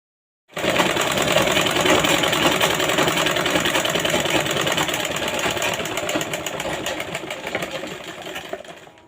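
A sewing machine runs steadily and loudly for about eight seconds, top-stitching piping turned up onto the bodice of a Naira-cut dress, a close, continuous whirring buzz with no talk.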